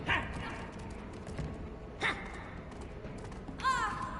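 A dog in the video game Never Alone gives a short, faint bark near the end over a quiet, low ambient game soundscape.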